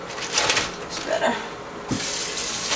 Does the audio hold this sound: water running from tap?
yes